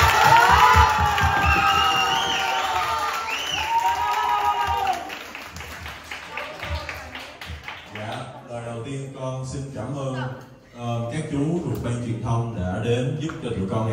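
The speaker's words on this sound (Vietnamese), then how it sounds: "Xin mọi người cho con một tràng pháo tay." At a Christmas 2023 party, a crowd claps and cheers loudly with scattered shouts. The applause dies away midway as a voice and music-like sounds take over.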